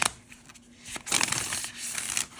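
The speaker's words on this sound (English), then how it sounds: "So it's not the easiest to riffle shuffle" A brief papery flutter of thick, high-quality cardstock oracle cards being riffle shuffled together, close up, followed by a softer rustle as the deck settles.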